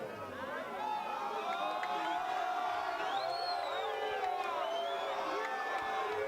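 A boxing crowd roars and whoops at the decision in a close, steady wall of noise, with individual yells and shouts rising out of the din.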